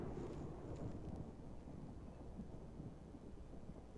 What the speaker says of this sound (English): Did you guys hear that thunder? I'm thinking maybe that was in the game.